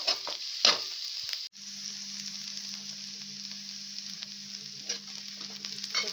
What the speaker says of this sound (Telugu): చూడండి ఇలా మంచిగా ఫ్రై అయ్యాయో